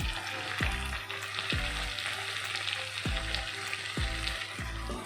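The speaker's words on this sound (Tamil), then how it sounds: "ஃபுல்லாக காய் ஃபுல்லாக ஃப்ரை ஆகிடுச்சு." Vegetables for green peas fried rice fry in a pan with a constant loud sizzle, broken by regular scraping strokes of a spatula about once a second.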